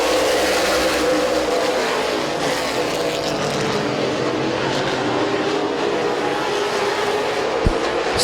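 Race cars lapping Midvale Speedway, a steady dense engine roar with a faint rising whine passing through, loud and continuous from start to finish with no clear speech.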